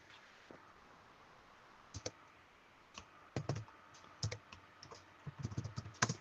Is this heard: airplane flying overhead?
no